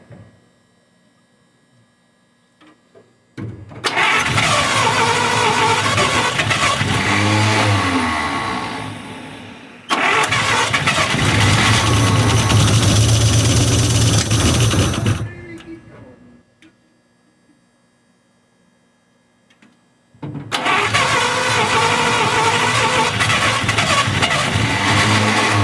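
A 1953 Buick Special engine, revived after 30 years in storage, running and revving loudly in three long stretches separated by quiet pauses.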